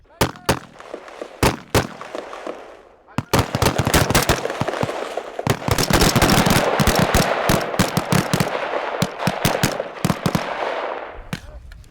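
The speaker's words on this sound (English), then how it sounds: "forget, double tap, it's bang bang. You see your target, bang bang." Gunshots ring out during a shooting drill in quick double-tap pairs, loud bursts repeating irregularly with dense overlapping reports in the middle, near and sharp with brief gaps between volleys.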